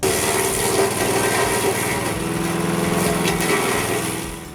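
An SP-60B branch chipper driven by a professional 9 hp petrol engine runs steadily and loudly throughout, with a continuous engine drone and chipping noise and no pauses.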